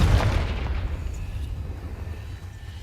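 A Confringo spell blast in Hogwarts Legacy: a single heavy explosive burst up front that decays into a rumbling tail.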